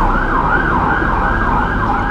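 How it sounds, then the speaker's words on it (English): An ambulance siren wails loud and close as it passes on a road, its steady rising and falling tone sweeping repeatedly with no talking over it. "But there's an ambulance coming past."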